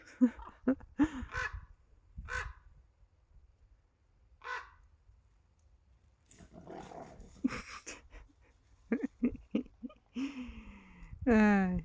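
Ravens caw repeatedly overhead, harsh calls scattered through the clip, some near and loud, alongside someone talking and rustling movement.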